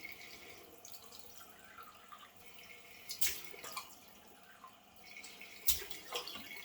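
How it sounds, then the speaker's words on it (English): Cold water splashed onto a freshly shaved face from a sink tap, giving two brief, close splashes and some dripping over a quiet room background, with no talking. "Now let me splash on some cold water and we'll use the alum block."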